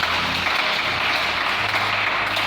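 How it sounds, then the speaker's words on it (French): A church congregation claps and cheers for the Lord, a dense, steady wash of applause filling the room throughout. "Est-ce qu'on peut acclamer le Seigneur?"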